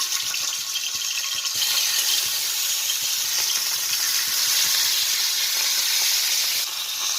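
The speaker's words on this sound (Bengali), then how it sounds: "চারটে টুকরো মাছ আমি ভাজতে দিয়েছি" Four pieces of parshe fish, rubbed with salt and turmeric, frying in hot oil, producing a loud, steady, close sizzle that holds evenly throughout with no talk.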